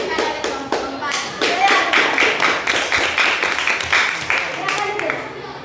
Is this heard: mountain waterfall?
no